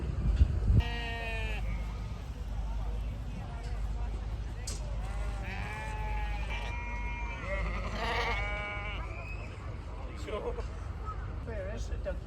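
Sheep bleat repeatedly at a livestock show in Scotland, several wavering calls from nearby animals overlapping across the stretch, with a steady background hum and chatter of people around them.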